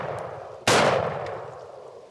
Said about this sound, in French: Il sort une arme. Bouge et tire.